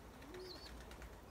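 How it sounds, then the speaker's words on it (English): A brief, faint coo from young racing pigeons, a short soft call over low background hum. "So yeah, a fine team of young birds there off Simon."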